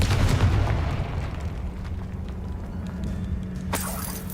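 Confringo spell explosion in a wizarding video game: a heavy booming blast at the start that rumbles and fades, followed by a sharp bright crack near the end.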